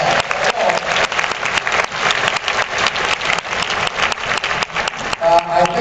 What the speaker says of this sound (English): Give a round of applause for the ghoulish ash.